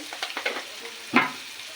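Tomatoes cooking in a pan for a fish curry give a soft sizzle with a few light stirring scrapes, close and fairly quiet, with one louder clatter near the middle and no talking.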